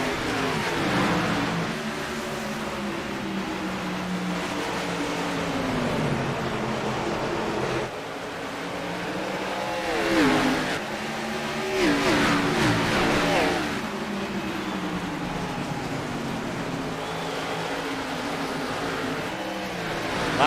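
Race cars in iRacing at Richmond accelerating as the green flag flies, a steady loud engine roar from the pack with rising revs and louder swells midway, no talking.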